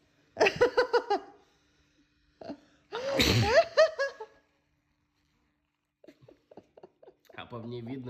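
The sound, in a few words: sneeze after kalanchoe nose drops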